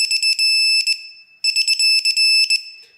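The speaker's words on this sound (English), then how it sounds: "when this torque wrench beeps, I'm just gonna show you guys here." An electronic torque wrench sounds its warning beep while tightening parts on a 2JZ engine build. Shrill, piercing beeps come in two rapid clusters separated by a short pause, loud and close, with no talking.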